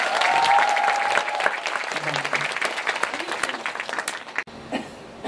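A concert crowd claps loudly, and the applause slowly thins out over a few seconds. Scattered chuckles and a cough follow, and a voice is heard near the end.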